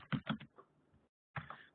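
Quiet keystrokes on a computer keyboard as a message goes into chat: a few clustered taps, a short pause, then another burst of clicks, close and soft.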